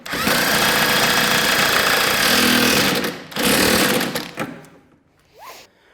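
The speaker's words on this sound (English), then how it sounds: "We're going to hand tighten, use the impact, and then we'll torque it." An impact wrench drives a bolt on a Polaris snowmobile rear suspension skid, a loud continuous buzzing hammer for about three seconds, a short second burst, then a fade into quiet.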